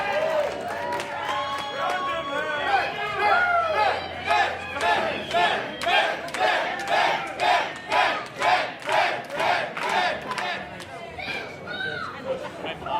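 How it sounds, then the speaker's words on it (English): Wrestling crowd at a live pro wrestling event cheers and chants in rhythmic bursts, a dense wall of voices pulsing loud and close. "Keep cheering for him."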